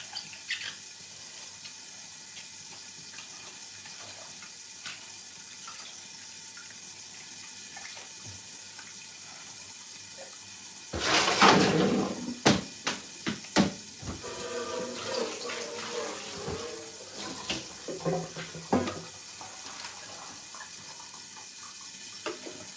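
Water trickling and splashing off freshly washed bok choy set aside to drain, a burst of irregular splashes arriving after a long quiet stretch of low background hiss.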